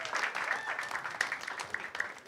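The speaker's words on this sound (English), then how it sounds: "And clap it up for your next contestant, Drew." A studio audience claps for the next game show contestant as he is introduced, a brief, fairly close burst of applause with scattered sharp claps under faint voices.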